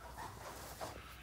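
A dog in a Mexican horror film scene gives a brief, close whimpering yelp and some soft whining, moderately loud, lasting just over a second with no talk over it.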